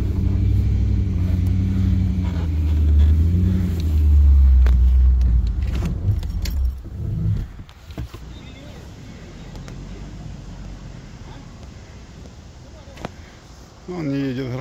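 A small Chinese SUV's engine rumbles loudly as it drives off-road through a forest, heavy for the first seven seconds, then dropping to a quieter hum with occasional knocks, with people talking over it.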